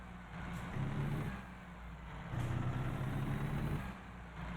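An International truck engine in American Truck Simulator drones low and steady, swelling louder twice and easing back between, with no voices over it.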